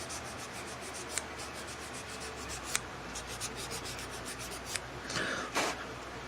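A nail file rubs steadily across dipping powder nails, a soft, quiet scratching with a few faint taps, heard up close with no talking.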